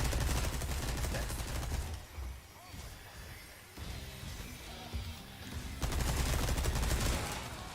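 Submachine gun fire in the video game Resident Evil 4, heard as bursts of rapid shots mixed with game music and effects, loud at the start and end with a quieter stretch between.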